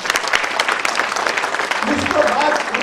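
Applause from an audience at a corporate summit gathering, a broad wash of clapping running steadily throughout, with talk or crowd voices mixed in toward the end.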